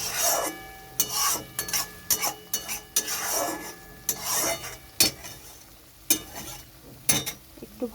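Shrimp being stir-fried in poppy seed paste gives repeated scraping and rubbing strokes of a spatula against the pan, uneven and close, with a soft sizzle underneath and no voices.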